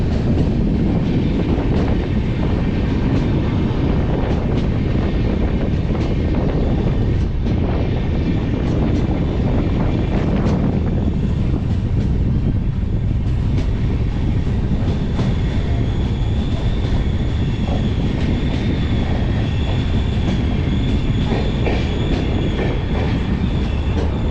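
An express passenger train, the Lokmanyatilak (T) Karaikal Weekly Express, rumbles steadily along the rails as it arrives at Arakkonam Junction, with a constant loud roar and clattering wheels heard from inside, without speech.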